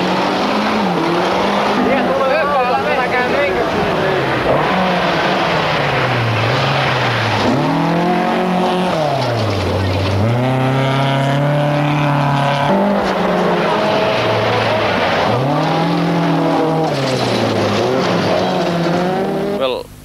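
Rally cars at the 1000 Lakes Rally, among them a two-wheel-drive car and a new Lancia, race through bucketing rain, engines rising and falling loud and close in steady revving sweeps that run almost without a break under a commentator's voice.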